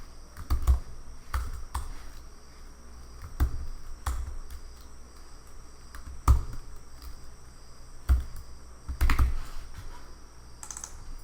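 Keys clatter on a computer keyboard in irregular bursts of typing, close and moderately loud, with a faint steady hum behind and no voices.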